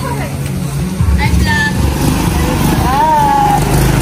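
A motorcycle engine rumbles and passes close by outdoors, its low, throbbing note rising and falling while people talk and birds chirp in the background.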